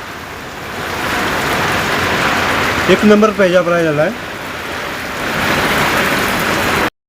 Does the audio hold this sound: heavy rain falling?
yes